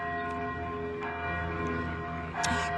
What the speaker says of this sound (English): You can hear the bells ringing